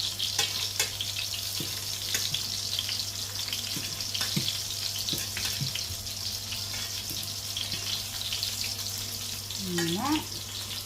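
Meatballs frying in oil in a pan, a steady soft sizzle with occasional clicks and scrapes as they are turned, fairly quiet, and a brief voice near the end.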